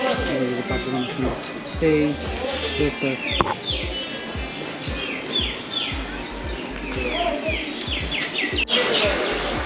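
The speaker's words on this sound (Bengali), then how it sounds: "অনেকগুলো পাখি আছে" Many birds in the grounds of Mohera Zamindar Bari in Tangail chirp and tweet in quick repeated calls, some near and some farther off, while people talk over them throughout.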